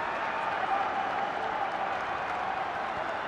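Crowd cheering and applause in a football stadium after an FCK free-kick goal for 2-0 against Esbjerg, a steady dense roar of many voices holding at full level throughout.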